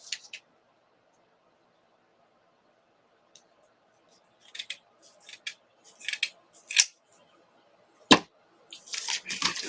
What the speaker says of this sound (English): Let me go ahead and cut this.